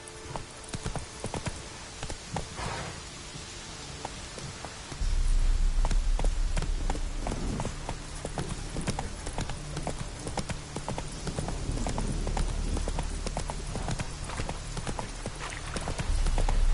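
Roach the horse gallops in The Witcher 3 on PS5, loud rapid hoof clip-clops pounding in a steady rhythm, starting lighter then building into a continuous close gallop.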